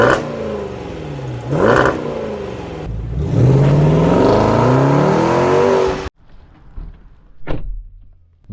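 A Range Rover Sport D350 with a 3.0-litre turbodiesel inline six revs and accelerates loudly up through rising gears, then cuts off sharply, followed by quieter clunks and a single thud.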